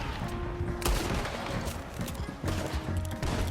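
Dense gunfire in the video game Red Dead Redemption 2, a loud chaotic stretch of overlapping shots and heavy blasts with hoofbeats mixed in, continuous over the whole stretch.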